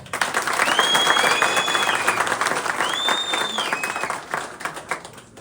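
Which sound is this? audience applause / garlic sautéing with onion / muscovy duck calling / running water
audience applause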